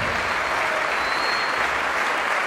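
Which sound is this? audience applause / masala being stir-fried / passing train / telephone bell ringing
audience applause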